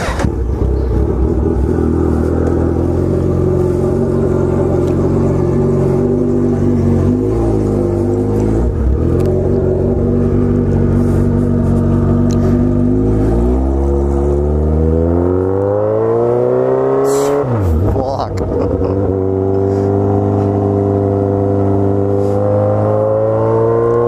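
A Kawasaki Z1000 motorcycle with loud exhaust muffs roars close by, revving hard with rising and falling engine pitch as it pulls away and rides, its deep rumbling exhaust loud and steady throughout with no talk.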